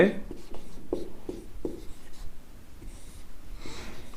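Steady writing strokes during a chemistry lesson, a series of short rhythmic scratches, close and moderately loud, with soft voice sounds in the background.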